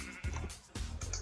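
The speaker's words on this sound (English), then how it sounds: "How is that sheep getting out?" Sheep in Minecraft bleat twice, short close calls spaced about half a second apart, clear against quiet background.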